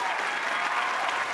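Brief burst of dense, steady audience applause in a television comedy studio, many hands clapping together at even loudness for a moment, greeting guest actors.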